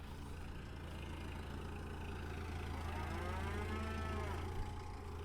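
A cow lows in one drawn-out moo partway through, set against a steady low engine-like rumble outdoors among cattle, with no talk.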